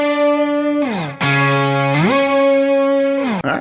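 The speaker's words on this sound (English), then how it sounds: "our first plugin, like we said before, was the Brainworks Bass Dude. And that is sounding like this." Fuzz-distorted guitar run through a Brainworx Bass Dude plugin, holding thick buzzy sustained notes that slide down and up in pitch, loud and saturated with a brief break near the end.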